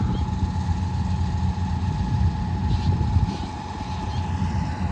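A combine harvester working a paddy field by the Ravi river runs with a steady, close engine drone and a constant mechanical whine, without pause.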